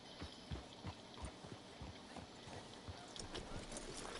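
Horse hooves clip-clopping in the video game Red Dead Redemption 2, a steady run of soft rhythmic thuds beneath a constant hissy ambient wash, with no voices.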